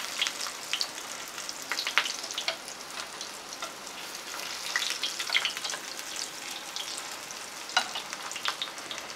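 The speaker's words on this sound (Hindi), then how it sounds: "तो दूसरी ओर भी हम फ्राई कर लेंगे कलर चेंज हो जाने तक" Homemade breakfast snacks frying in a pan and being flipped with a spoon, a soft, steady sizzle with light crackles and a few quiet scraping touches, fairly faint and without speech.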